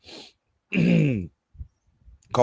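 A single harsh, voiced cough or throat-clear close to the mic, with a brief breathy sound before it and a few faint clicks afterward.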